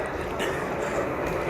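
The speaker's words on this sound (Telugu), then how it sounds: "అరే సౌండ్ వస్తుందిరా, మన ట్రైనే వస్తున్నట్టుంది." A train rumbling in at a train-themed restaurant, a steady low mechanical roar throughout the short moment, close and fairly loud.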